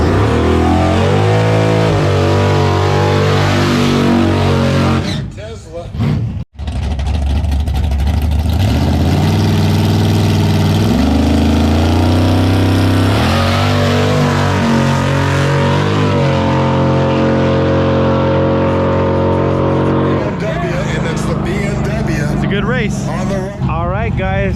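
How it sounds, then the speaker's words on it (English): LS-powered Mazda Miata drag race cars at a no-prep True Street event at Immokalee Regional Raceway idle with a loud V8 burble, then rev and accelerate hard with rising engine pitch, over steady crowd and track noise and talking. "racing the Mazda Miata LS powered in the right lane"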